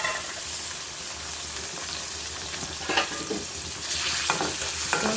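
A chicken breast piece fries in a little oil in a wok, giving a steady hissing sizzle with a few scraping stirs near the end.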